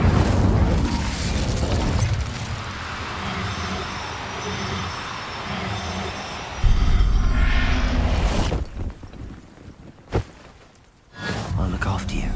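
Roaring bursts of an Incendio fire spell from Hogwarts Legacy, rumbling and loud over several seconds, ending in a couple of short sharp pops with quieter gaps between them. Game sounds dominate throughout.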